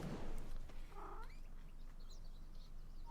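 A house cat gives a short meow, clear but not very loud, followed by a quieter higher cry amid soft room noise.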